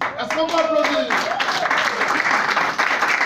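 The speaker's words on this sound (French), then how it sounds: "Est-ce qu'on va applaudir?" Applause from an audience at a Cameroonian opposition political gathering, a dense continuous wash of clapping heard with voices speaking over it early on.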